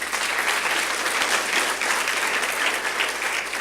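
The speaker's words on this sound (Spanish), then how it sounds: "Le damos un aplauso a Dios de la gloria por eso." A church congregation claps in steady, dense applause that holds at an even level throughout, with no voices standing out above it.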